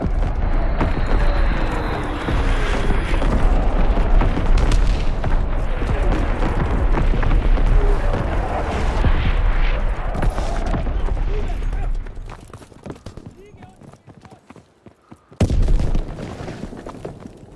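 Fritz X missile strikes in Call of Duty WWII land as a long, loud barrage of overlapping booms and rumbling blasts that thin out and fade, followed by one last sharp blast near the end.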